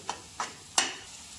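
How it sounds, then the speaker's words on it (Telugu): A spoon scrapes and stirs in a pan of frying stuffed eggplant curry, three short clinks and scrapes over a soft sizzle, close and fairly quiet, with no talking. "దీన్ని మనం మంచిగా ఫ్రై చేసుకోవాలి."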